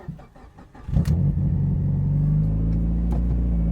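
A car engine cranks briefly, catches, and settles into a loud, steady low idle rumble nearby.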